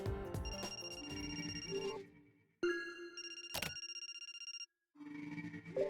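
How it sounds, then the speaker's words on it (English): In The Silver Case video game, an electronic telephone chimes in bright tonal bursts, pausing briefly between rings, loud and close with no voices. "Obviously you want me to pick up the phone."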